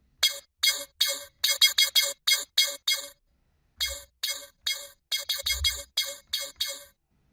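Plucky synth bass fires in short, bright, rhythmic stabs in two bursts separated by a brief gap, with occasional low thumps underneath.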